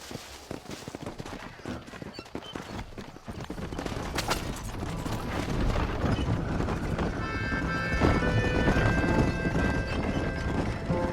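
A horse galloping in Red Dead Redemption, rapid rhythmic hoofbeats close up that grow denser and louder, with crackling bursts of gunfire layered in toward the end and no speech.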